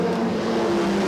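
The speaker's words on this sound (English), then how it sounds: "Going around the 99 of Greg Clark" Race cars circling Seekonk Speedway in Massachusetts give a steady, sustained engine drone with layered harmonics, loud and continuous through the short stretch with no talk over it.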